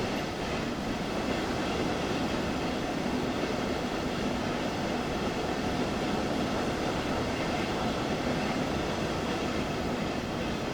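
A train in Train Sim World 2 on the Dresden regional route runs with a constant, dense rumbling roar that holds steady the whole time, with no voices.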